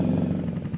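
Upgraded motorcycle engine in a video game, a steady mid-pitched throbbing drone, close and continuous, with no talk.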